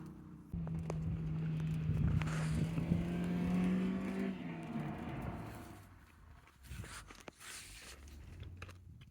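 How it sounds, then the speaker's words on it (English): A BMW M race car passes on the Roebling Road track, its engine note rising loud and close, then sweeping away into the distance with some fading rumble afterward. "Got the M car coming through."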